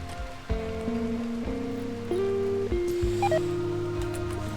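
Steady rain falls in the video game Rimworld, a soft continuous wash that runs under prominent sustained musical tones throughout.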